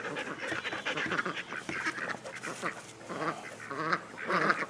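Homestead ducks quack busily nearby, with several birds calling over one another in a dense, continuous chorus of overlapping nasal quacks.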